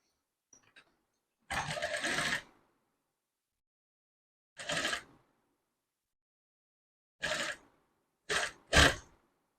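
A sewing machine stitches a prince-cut, front-open blouse seam in several separate bursts: one long run, then a short one, then a few quick back-to-back runs, each close and clear against silence.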